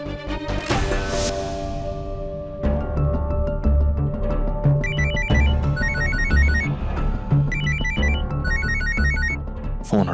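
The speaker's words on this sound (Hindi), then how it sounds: "फोन उठाओ" A telephone rings repeatedly with a bright electronic melody over a steady backing beat, loud and close, with no talking.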